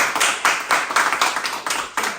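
Applause from a small group, distinct hand claps in a quick, fairly regular rhythm, close and clear, each clap sharp with a short decay and no voices on top.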